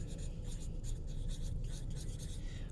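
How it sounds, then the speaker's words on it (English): Marker or pencil scratching out a name on a paper bug craft, short scribbling strokes close by in a quiet room. "So I'm gonna write my name again."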